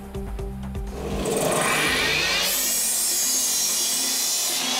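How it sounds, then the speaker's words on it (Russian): Wood boards are cut with a power saw in a busy carpentry workshop, the close, loud blade whine rising and holding as it bites through the timber after a brief rattling start. "Эту мастерскую легко найти по звуку пилы."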